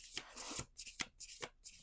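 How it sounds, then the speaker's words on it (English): Oracle cards shuffled by hand in several quick riffling bursts, close and crisp, with short pauses between each shuffle. "We're going to do 2 more shuffles after this."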